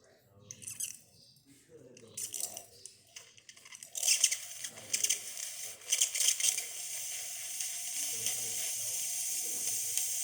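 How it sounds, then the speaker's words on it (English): Steam wand on a DeLonghi espresso machine hissing and sputtering steadily for several seconds, growing louder midway and then holding a continuous close hiss. "I'll show you the steam as well"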